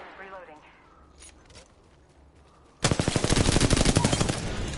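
Rapid video-game gunfire erupts suddenly and loudly after quieter moments, a dense stream of machine-gun bursts continuing to the end, with players talking over the action beforehand.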